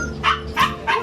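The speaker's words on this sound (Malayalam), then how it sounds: "നല്ല പട്ടിക്കുട്ടികളാണ് ഇവിടെ കാണുന്നത്." Puppies bark three times in quick succession, with short, high yips that are close and loud against a quiet background.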